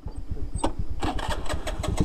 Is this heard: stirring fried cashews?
no